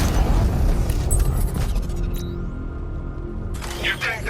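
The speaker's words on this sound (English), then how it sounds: "I can use the power winch to trigger a controlled explosion." A controlled bomb explosion set off with a power winch in Batman Arkham Knight gives a loud, deep boom with a rumbling tail that lingers and fades, with a brief debris crackle at the end.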